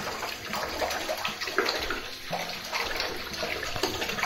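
A bathtub fills with running water from the tap, a steady broadband splashing rush that holds at an even level throughout, close by and alone with no talk.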